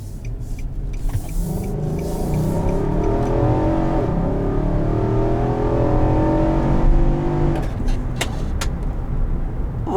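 A 2020 Nissan Armada Platinum SUV accelerating from inside the cabin, a steady engine drone rising in pitch through a long pull then easing off, with road noise underneath.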